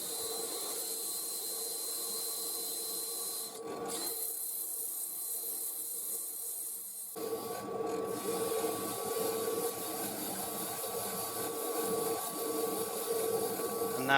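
Sanding a wood turning with 600 grit abrasive against a steady whir of the spinning lathe, a constant close rubbing hiss that drops briefly and then resumes stronger.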